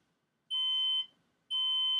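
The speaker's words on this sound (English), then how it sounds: "sets off the alarm sound that I'm used to waking up to." A smart home assistant set up as an alarm clock sounds its wake-up alarm: two loud, steady electronic beeps, each about half a second long with a short gap between them, clear and alone with no talking.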